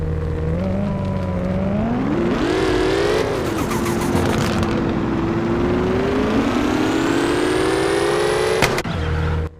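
Tuned car engine in the mobile driving game Car Parking Multiplayer 1, revving loudly and close up, climbing in pitch, dropping back, then building into a sustained high rev before cutting off abruptly, with no voices.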